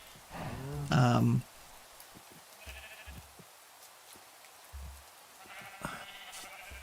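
A sheep in the Minecraft video game gives one loud, clear bleat near the start, followed by quieter bleats and soft taps against faint background noise, with talk nearby.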